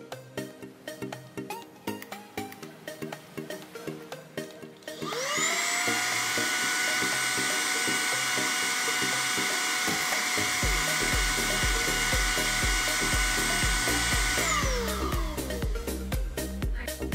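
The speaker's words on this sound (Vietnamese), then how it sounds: "V17 hiện nay là dòng máy hút bụi có độ ồn thấp nhất trên thị trường khi sử dụng công nghệ giảm ồn 9 cấp" A Redroad V17 handheld cordless vacuum cleaner switches on after a few seconds of clicking and handling noise, then runs with a steady high whine and hum for about nine seconds before winding down.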